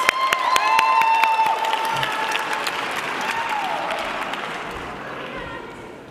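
At an awards ceremony, an audience applauds recipients with sustained, dense clapping that starts loud and tapers gradually over several seconds, a few sharp nearby claps standing out at the start.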